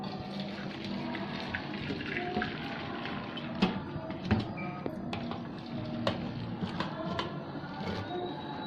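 Hot water from boiled potatoes being drained for French fries, a continuous splashing pour close by with scattered drips and clinks of the pot.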